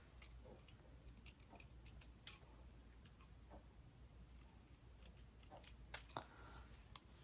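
Small scissors snip tiny pieces of paper into pointed sepals for handmade magnolia paper flowers, a quiet run of close, crisp cuts and rustles scattered unevenly, with no talking.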